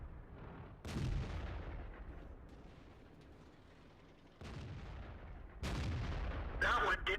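Tank cannon shots fire in World of Tanks, a Bat.-Châtillon 25 t in play, with several loud booming blasts, a big one near the start and more later, each followed by rumbling decay under steady engine and battle noise.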